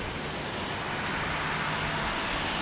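A JetBlue airliner landing at San Diego airport gives a steady broadband engine roar, loud and unbroken, with no voices over it.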